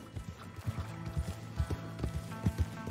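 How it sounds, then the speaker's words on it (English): Rhythmic clip-clop of horse hooves at a steady walking pace in the video game Red Dead Redemption, moderately close, with a soft background hum and no talking. "Mr. Mason, I'm borrowing your horse."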